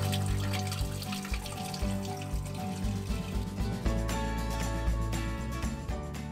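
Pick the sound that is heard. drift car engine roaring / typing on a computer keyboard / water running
water running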